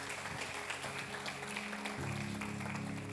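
A church congregation at a Portuguese-language morning service claps together in a dense, steady wash of applause, moderately loud and sustained, with a faint musical tone lingering beneath.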